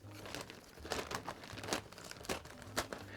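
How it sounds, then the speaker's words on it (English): A plastic bag is cut open close by: quiet crinkling and rustling of plastic with several short, sharp snips and tears spread across a few seconds, with no talking. "I'm going to cut the bag"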